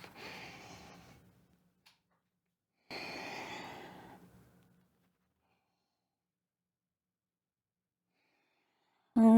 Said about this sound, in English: A few like this, inhaling and exhaling